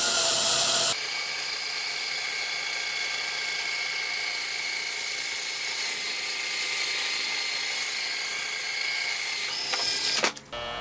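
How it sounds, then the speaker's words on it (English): A shop-built router lathe spinning a wood cylinder at slow speed, a steady high motor whine with a hand rubbing against the turning wood, running continuously before cutting off at the end. "with this cylinder turning at slow speed, you can probably hear the sound of my hand rubbing on there"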